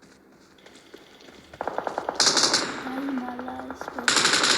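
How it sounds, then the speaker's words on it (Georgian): Gunfire in the mobile battle royale game PUBG Mobile crackles in rapid automatic bursts, loud and close, with sharp bright blasts layered over a brief tonal sweep while a player speaks excitedly between shots. "აქედან ვიღაცა ისვრის"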